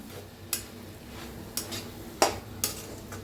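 A spoon scrapes and clanks against a pan while drumstick-leaf vegetable with lentils is stirred, giving four sharp metallic knocks spread over a soft background sizzle.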